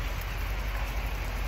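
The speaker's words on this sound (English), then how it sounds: "it's raining" Steady broadband hiss of rainfall in Vermont, dense and constant throughout, with no distinct drops standing out and no voices.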